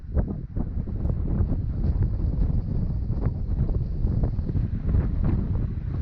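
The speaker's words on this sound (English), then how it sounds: "You can hear the wind." Steady wind gusts roar across an exposed mountain pond on a cliff edge near Blue Lake in the North Cascades, buffeting the microphone with continuous low rumbling and no voices.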